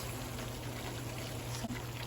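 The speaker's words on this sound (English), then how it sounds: "I'm about to add this hot boiling water in it." Hot boiling water pours steadily into a pot of goat curry cooking over high heat, a continuous soft trickling hiss with a low hum underneath and no talking.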